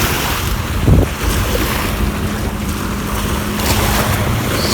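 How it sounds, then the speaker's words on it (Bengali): Waves wash against a riverbank at high tide under a cold, steady wind, a continuous near rush of water and wind noise with one brief louder splash early on; no voices. "এই বড় একটা ঢেউ একবারে"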